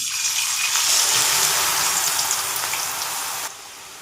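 Shredded potato crackles and hisses in hot oil, a dense, bubbling sizzle that eases slightly toward the end.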